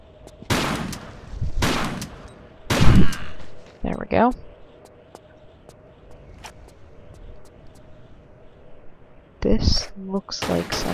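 Shotgun blasts in a video game, several loud, sharp reports spaced irregularly across the stretch with quiet gaps between, some firing in quick pairs, alongside occasional talking.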